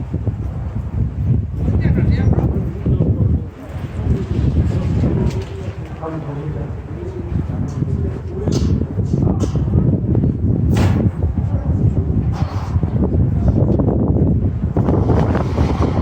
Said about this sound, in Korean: 오, 바람 장난 아닙니다. 바람 복수로 분다.